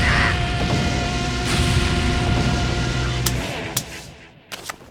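An anime card-battle cannon barrage from a skeleton gunner unit: dense rumbling booms and roaring blasts fill the first few seconds, followed by a few sharp isolated cracks toward the end.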